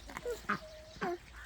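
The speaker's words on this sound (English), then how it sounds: "Over there, white ducks." White ducks on a farm give a few short nasal quacks, three brief calls spaced across a second and a half, fairly close and moderately loud over faint outdoor background.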